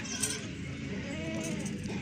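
Goat bleats from a Rajanpuri Beetal doe among dairy goats for sale, heard faintly and intermittently over a steady background hum, with no clear talk.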